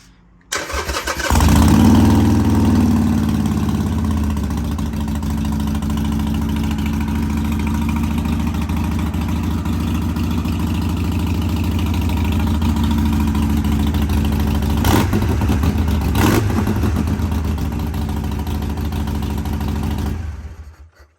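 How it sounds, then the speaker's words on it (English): A Harley-Davidson Iron 883 Sportster motorcycle starts and then settles into a loud, close, gnarly idle with a deep, steady low rumble. The idle runs alone and unbroken for about twenty seconds, with no talk over it. "though it's an iron, it does have a pretty gnarly sound to it"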